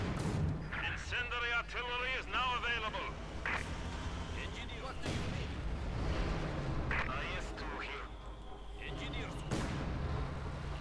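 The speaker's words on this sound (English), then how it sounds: "Bit of mortar fire there." Mortar fire in Company of Heroes 2, a 1v1 match: faint distant thuds and blasts scattered through a busy battle mix, under a talking voice.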